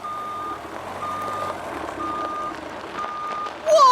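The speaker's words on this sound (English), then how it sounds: "Whoa! It's a big, green dump truck." A big green dump truck reverses, its backup alarm sounding as evenly spaced steady beeps, four tones about a second apart, over outdoor traffic rumble, with a sharper noise cutting in at the very end.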